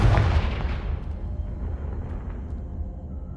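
A Confringo fire spell explodes in Hogwarts Legacy, played on Xbox Series X: a loud, deep burst at the start whose low rumble and crackle trail off over the next few seconds.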